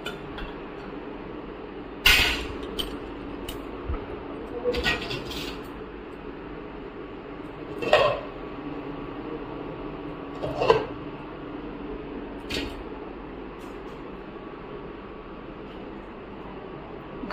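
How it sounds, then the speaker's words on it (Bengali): Metal pots and dishes in a Bengali home kitchen clink and knock as they are moved around, in a handful of sparse, fairly close clatters separated by quiet pauses. "এতগুলো বাসন কুসন আমি নাড়াবো"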